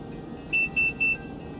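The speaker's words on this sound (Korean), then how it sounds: "삐삐삐 3번의 신호음이 들립니다." Three quick, high electronic beeps from a CATLINK ONE cat feeder during Wi-Fi pairing sound in an even row, fairly close, over a low steady background hum.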